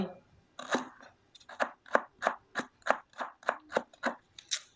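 A knife cuts coriander root and lemongrass into pieces for pounding in a Thai kitchen: a dozen crisp, evenly spaced chops, close and distinct, with brief quiet gaps between strokes.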